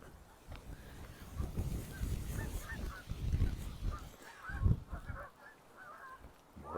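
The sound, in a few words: geese honking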